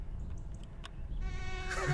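A mosquito buzzes in the My Summer Car video game, a thin whining drone that rises in the second half of the short clip, close and steady with no talking over it.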